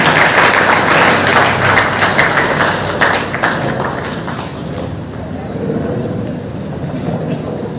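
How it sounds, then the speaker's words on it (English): An audience at a career guidance talk in Byndoor claps in a dense, loud round of applause that gradually thins and fades over several seconds. "A big round of applause to him"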